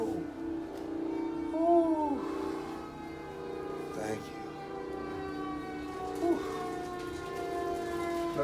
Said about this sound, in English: That siren's not, they're not coming to get you.